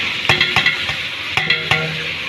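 Tomatoes hitting hot oil in a frying pan for tomato rice, a steady hiss punctuated by a few sharp clatters of the spoon, close and without speech.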